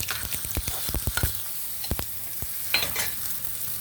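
Fried tempering is tipped into sesame chutney and stirred. A spoon scrapes and knocks against the vessel in quick, irregular strokes over a faint sizzle, close by, with no talking.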